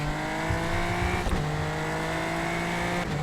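A Super Formula Lights race car's engine in the iRacing simulator holds a steady, high-pitched drone at near-constant revs, with a brief gear-change dip midway and another near the end, loud and up close with no talking.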